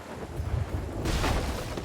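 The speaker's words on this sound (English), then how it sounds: "Oh god, of course it has to be storming." Rumbling thunder and rain in a fishing video game's storm: a low rolling boom that swells partway through over a constant wash of rain, fairly loud and close, with no talking.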